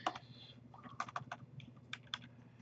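Close, quiet typing on a computer keyboard while entering C# code, a short run of irregular crisp key clicks with small pauses between bursts, with no voices.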